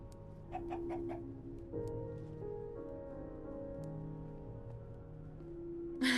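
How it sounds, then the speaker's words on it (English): Chickens in a video game cluck in short, repeated bursts over a steady, droning game-music backdrop, the clucks quick and somewhat faint against the layered tones. "There's like chickens like bathing happily in this little pool."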